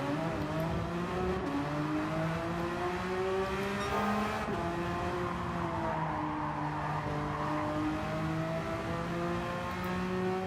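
Race car engine howling around WeatherTech Raceway in a racing video game, a continuous close whine whose pitch climbs and drops with throttle and gear changes, with a sharp shift partway through and no talking.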